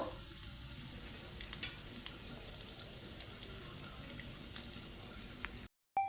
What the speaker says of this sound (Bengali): এবার কিশমিশটা ভেজে নেব